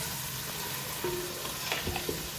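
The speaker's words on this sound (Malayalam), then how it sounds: "നന്നായി ഒന്ന് നല്ല സ്പീഡ് നന്നായി ഒന്ന് ഇളക്കി കൊടുക്കുക കേട്ടോ." Beans and green capsicum stir-fried quickly in a pan for fried rice give a soft, steady sizzle with a few light scraping clicks from the stirring, faint and without any voices.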